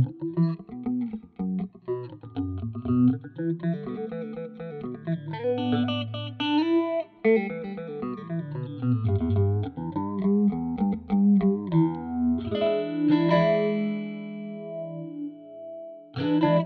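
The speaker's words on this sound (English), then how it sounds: "Definitely a deep phaser. Dirty clavinet phaser." Dirty clavinet sound swept by a deep MoogerFooger plugin phaser, a continuous sustained line of distorted keyboard notes with a swirling, churning modulation, loud and alone for about sixteen seconds.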